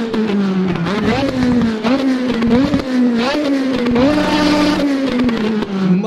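A Renault Megane kit car rally engine revs hard at a rallysprint in Hondarribia, loud and close, rising and falling repeatedly with gear changes over about six seconds.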